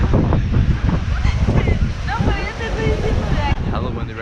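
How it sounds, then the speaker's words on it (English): Strong wind buffets the microphone at a beach in Cancun, a steady loud rumble throughout, with a voice speaking over it. "Hella windy right now."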